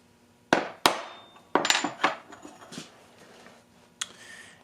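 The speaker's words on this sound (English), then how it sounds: "I am going to take an old nail set that I have here for doing my pinholes and just give it a nice little" A hammer taps an old steel nail set to mark a center point on a hand-forged Scottish dirk: several sharp metallic strikes, a few single and some in quick clusters, close and alone with no talk.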